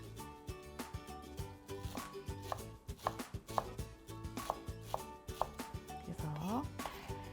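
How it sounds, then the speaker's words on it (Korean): Fresh chives chopped finely with a knife on a board, a rapid, steady series of crisp taps running throughout over a soft tonal background. "부추도 마찬가지로 쫑쫑 썰어줄게요."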